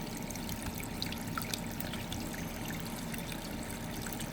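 A garden creek shaded by plants, with roots growing in the water, keeps up a steady, close trickle and gurgle of flowing water throughout, with no talk.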